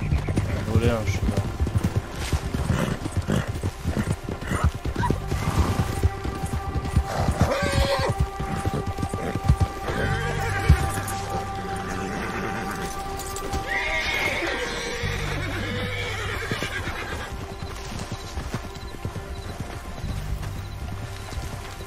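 A horse in Red Dead Redemption 2 Online whinnies and neighs over steady galloping hoofbeats, with game music, effects and a voice talking throughout.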